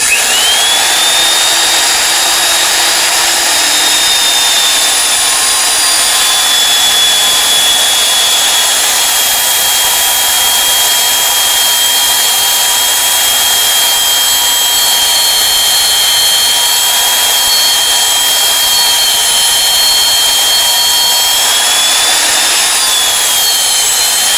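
A magnetic drill whines loudly and steadily as it bores into a steel plate for a Cat D3C LGP dozer, the high-pitched motor tone holding nearly constant for the whole stretch.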